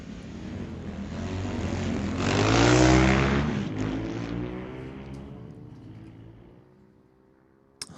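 A KTM Sumo motorcycle launches down a drag strip, its engine roar swelling to a loud peak as it passes, then trailing off into the distance, ending in near quiet with a brief click.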